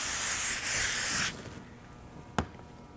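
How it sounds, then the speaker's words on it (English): Contact cleaner sprays onto a dirt bike air filter cage in a loud, steady hissing burst for over a second, then stops, followed by a quiet tap. "I'm gonna spray my filter cage with contact cleaner"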